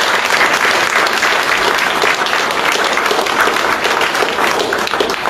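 A standing church congregation applauds loudly and continuously to acclaim the Lord. The dense clapping is close and sustained, with faint crowd voices underneath.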